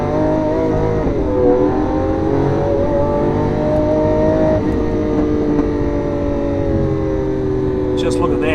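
A Lamborghini Aventador accelerates hard along a straight on a Highlands lap. The engine note is loud and close, its harmonics climbing and sweeping through the gears, and voices can be heard over the engine in places.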